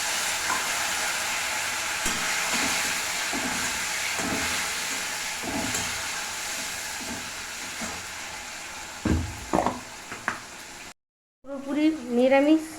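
Small chopped tomato pieces fry in a pan for mung dal, a continuous close sizzle with soft, regular stirring scrapes, then a brief pause before a voice speaks at the end.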